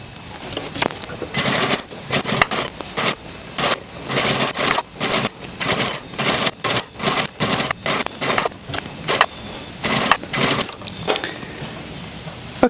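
Sewing machine running a stay stitch along the edge of a sequined dress, in quick bursts of stitching separated by short pauses, close and fairly loud.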